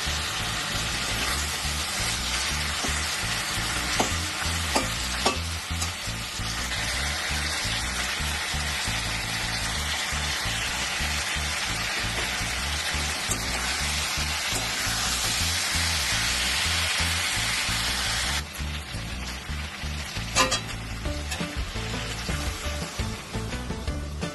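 Taro and pumpkin stir-fry in a pan as pumpkin shoots go in, with a steady close frying sizzle and occasional stirring clicks running throughout.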